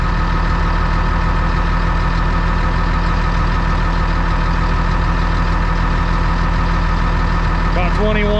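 Caterpillar D6 bulldozer engine running steadily at high RPM, slightly over spec, a loud continuous diesel drone with a constant tone throughout, briefly joined by a faint whine near the end.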